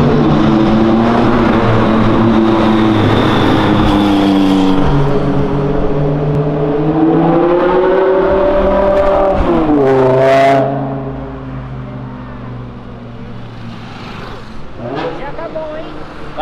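A McLaren sports car drifts on a city avenue, its engine loud and close, revving in long rising and falling sweeps before easing off after about ten seconds.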